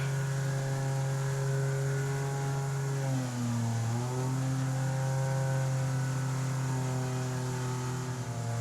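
An inflatable jet boat runs along a river with a steady droning engine whine that dips briefly mid-pass and then settles back to an even, continuous hum, fairly loud and without voices.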